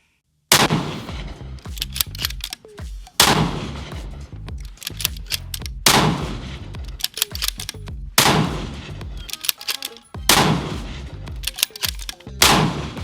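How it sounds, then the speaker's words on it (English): Precision rifle with a muzzle brake fired under a metal canopy on a dusty Arizona range: five loud, sharp cracks spaced a few seconds apart, each followed by a ringing metallic echo and scattered clatter. "the amount of concussion that you get from the muzzle brake"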